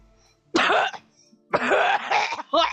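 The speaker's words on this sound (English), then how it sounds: "After coughing loudly into her hand" Three harsh, close coughs in quick succession, each a short rough burst separated by brief pauses, with no talking.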